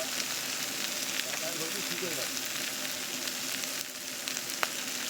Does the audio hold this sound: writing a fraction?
no